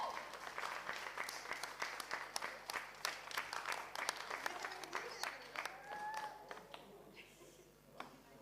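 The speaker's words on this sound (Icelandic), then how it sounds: "Gefðu þið gott klapp." Sustained applause from a crowd at an Icelandic powerlifting championship honouring the winners, dense clapping with scattered whistles rising toward the end before it thins out.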